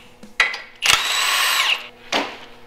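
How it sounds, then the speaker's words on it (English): Power drill boring holes in Jeep suspension arms: close, loud whine in two short bursts and one longer sustained run, with brief pauses between. "So we're going to take these arms off and drill"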